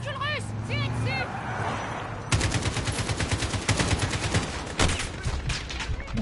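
Rapid bursts of automatic gunfire crackle loudly in Call of Duty Modern Warfare, a quieter stretch with voices giving way to dense, rhythmic volleys that continue in short runs.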